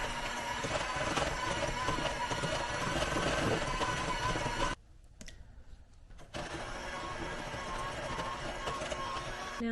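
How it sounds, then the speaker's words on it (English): Electric mixer beating eggs one at a time into whipped batter for a berry Chantilly cake, a continuous close whirring drone that briefly drops and thins for about a second and a half before resuming. "now I'm beating in my eggs one by one."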